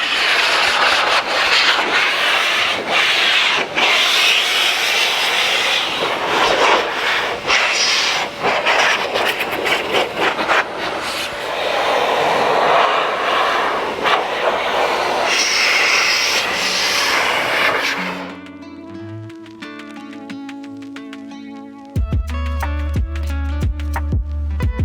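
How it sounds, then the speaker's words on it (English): A blower dries the cracks and crevices of a car during mobile auto detailing, a loud continuous rushing roar that holds steady for most of the stretch before cutting off as music takes over. "detach the hose and turn the blower on"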